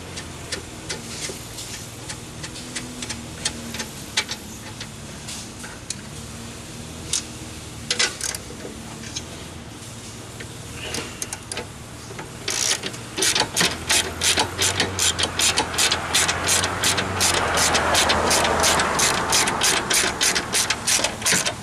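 A ratchet with a deep well socket removes nuts from a frame stud on a 1999–2005 Cavalier or Sunfire near the upper engine mount, with slow irregular clicks giving way to a rapid, steady run of close ratcheting.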